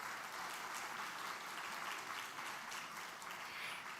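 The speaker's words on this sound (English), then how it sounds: "Please welcome our moderator and panelists with a big round of applause." Steady applause from an audience welcoming a moderator and panelists at the opening plenary of a defense conference, sustained and dense with no break across the whole stretch.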